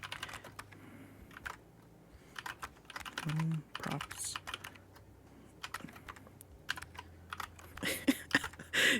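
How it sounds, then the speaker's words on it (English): Someone typing slowly on a computer keyboard while writing code, with scattered soft key clicks and occasional louder taps across the clip, a brief spoken word near the start and faint muttering. "You can look how slow my typing has become."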